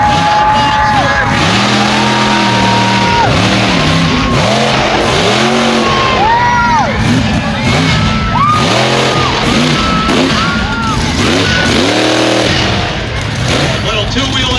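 Monster trucks roar at the Kanabec County Fair with loud engines revving hard in repeated surging sweeps, tires skidding, and a crowd cheering and whooping underneath.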